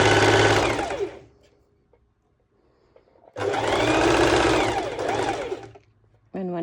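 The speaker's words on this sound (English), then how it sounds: "I'm doing the same straight stitch like I did before." A sewing machine runs a straight stitch along a cowl neck dress in two loud, rapid bursts separated by a quiet pause, with a brief start of a third burst at the end.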